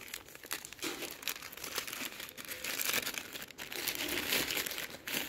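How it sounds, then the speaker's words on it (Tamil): A plastic cover holding fabric conditioner ingredients being pulled open, close crinkling and crackling of plastic in irregular bursts and rustles, with no talk over it. "இப்போ இந்த கவரில் என்னெல்லாம் இருக்குன்னு பிரித்து வெளியே எடுத்து வச்சிடலாம்."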